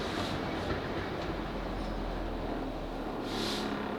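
A South Western Railway Class 458 electric train runs steadily in a continuous interior rumble with faint rail noise, heard alone without speech as it approaches Isleworth station.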